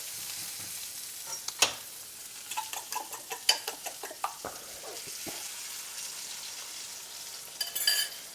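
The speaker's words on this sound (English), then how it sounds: "Just kind of spread the mushrooms out on the pan." Mushrooms being spread out in a pan for an omelette sizzle quietly, with scraping and stirring clicks and a few brief utensil knocks near the start and end, and no voices.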